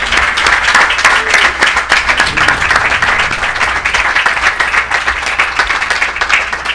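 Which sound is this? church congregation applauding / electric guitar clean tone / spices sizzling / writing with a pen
church congregation applauding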